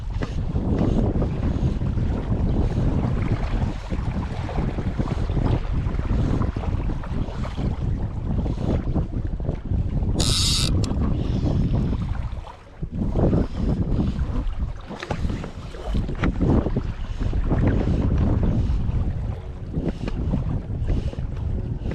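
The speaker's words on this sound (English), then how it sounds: "Apart from that bit of wind, I suppose you want wind on reservoirs" Wind gusting across Ladybower reservoir in Derbyshire, a continuous loud buffeting roar over the microphone with lapping water beneath and a short dip in the middle.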